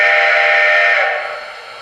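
A model train sound decoder on a TCS WOW heavy steam locomotive plays a steam whistle. It gives one loud, sustained chime tone that fades out toward the end, with no other sounds.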